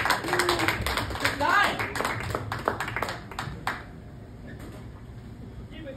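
An audience at a comedy show applauding a comedian, a dense burst of claps that thins out after a few seconds, with a host's voice calling over it.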